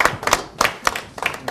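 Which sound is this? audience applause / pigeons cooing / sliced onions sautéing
audience applause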